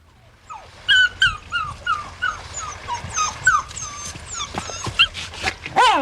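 A dog whimpers and yips in a series of high, wavering cries, with short howl-like rises, close and fairly loud over a quiet background, at a mill house on a country estate.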